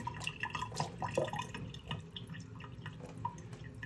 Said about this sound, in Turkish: böyle bol soğuk suyla bir sudan geçireceğim